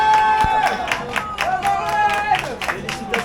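Spectators applaud the second woman to finish a half marathon in Saint-Denis, clapping in a brisk, uneven patter. A sustained tone and voices run over the applause throughout.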